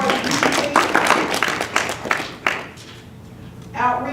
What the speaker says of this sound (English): So I want to give everybody a clap in the room for supporting PCC.